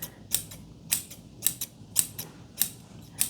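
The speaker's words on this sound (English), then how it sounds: "Scissor." Scissors snipping repeatedly, about seven crisp metallic cuts in a steady rhythm, close up with a quiet background.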